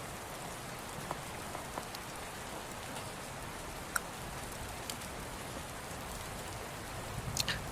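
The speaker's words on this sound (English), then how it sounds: "you hear heavy rains" Heavy rain falls steadily with a dense, even hiss, a few sharper drops standing out now and then and no voices.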